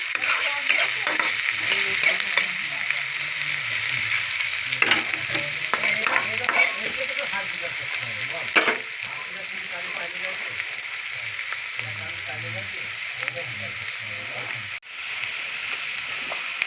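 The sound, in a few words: onions frying with chicken bones in a pan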